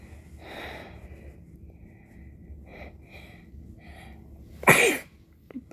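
A single sharp human sneeze, close and loud, bursting out after several seconds of quiet breathing and faint background sounds.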